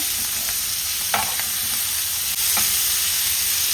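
Fish frying in a pan gives a steady, close sizzle of hot oil, with a few soft stirring or turning clicks and no talking.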